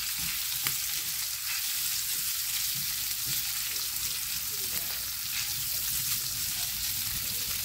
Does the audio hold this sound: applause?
no